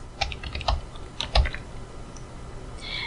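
Python turtle code is typed on a computer keyboard, with a few quick bursts of close key clicks separated by short pauses.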